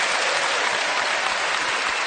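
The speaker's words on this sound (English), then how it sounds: "A round of applause for them." A studio audience at a BBC Radio 4 comedy panel game applauds the players, a dense, steady wash of clapping that stays even throughout.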